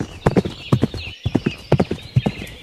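Horse hooves thud in a quick three-beat canter rhythm, close and fairly loud, with a high whinny-like tone drawn out above the footfalls.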